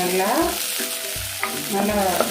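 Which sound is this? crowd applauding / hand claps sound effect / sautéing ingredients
sautéing ingredients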